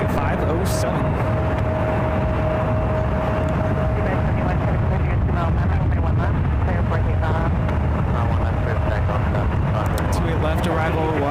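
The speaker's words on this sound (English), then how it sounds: "Second 777-200 will be taking off to Rome" A Boeing 777-200 airliner takes off at San Francisco International Airport, a broad, steady jet engine roar that fills the whole clip under continuous radio and commentary chatter.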